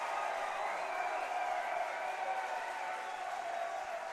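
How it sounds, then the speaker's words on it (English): Crowd at an Intercounty Baseball League game between the Toronto Maple Leafs and London Majors applauds after a run scores, a steady, distant wash of clapping and cheering lasting several seconds. "The crowd is all the way back into this ball game."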